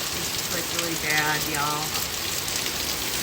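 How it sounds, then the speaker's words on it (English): Heavy rain pours continuously in a strong thunderstorm, a loud steady hiss on surfaces while a person speaks briefly over it. "Oh, now it's even raining harder."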